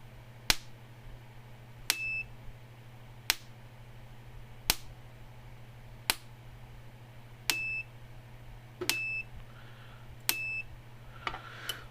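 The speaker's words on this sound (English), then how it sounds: "Looks like right about 1000 kV is where the alarm sets. This little beeping sound goes off" Kencove EKD16 electric fence tester alarm beeping in short, sharp chirps, about nine of them at a steady rhythm of roughly one every 1.4 seconds, clear over a low constant hum.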